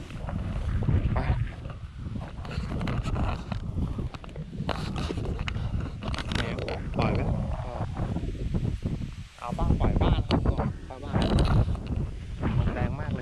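Strong wind buffets the microphone while a boat is driven, producing a continuous, loud, rough roar with gusty surges and brief dips throughout.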